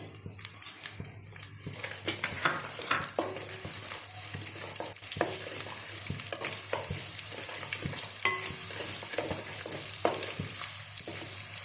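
Crushed garlic and fenugreek fry in hot oil in a pan, a loud steady sizzle with scraping stirring strokes, continuous throughout, no voices, for a village-style mango fish curry.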